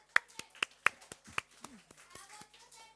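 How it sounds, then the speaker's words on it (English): A few people in a temple talk clap sparsely, with a handful of distinct, sharp claps followed by fainter scattered ones as voices speak. "One round of applause to both of them"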